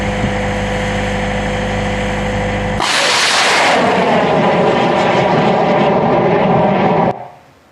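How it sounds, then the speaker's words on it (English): A hybrid rocket on a record-setting altitude flight in Africa, a steady engine tone that bursts into a loud, roaring launch blast, holding as a broad rumble for several seconds before trailing off. "we set the altitude record for hybrid rockets in Africa back in 2021, and this is the launch that did that"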